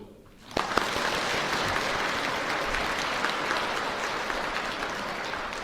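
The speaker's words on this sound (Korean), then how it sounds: "박수." A church congregation at a Christmas Eve night Mass breaks into sudden, sustained applause that stays dense and even, filling the hall after a quiet start.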